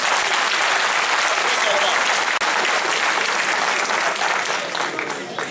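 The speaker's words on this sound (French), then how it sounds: "Vous pouvez les acclamer." A crowd of union workers applauds and cheers a labor federation, steady dense clapping sustained throughout at close range, with no speech.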